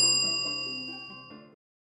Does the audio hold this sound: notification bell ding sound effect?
yes